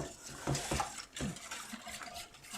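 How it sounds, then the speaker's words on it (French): Cornstarch being whisked into cold milk in a bowl, quiet rhythmic stirring with soft scraping taps against the sides, close and faint, with no talking. "on mélange pour l'instant pour faire dissoudre donc la maïzena"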